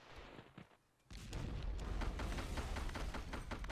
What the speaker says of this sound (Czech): slyším tam brutálně moc výbuchů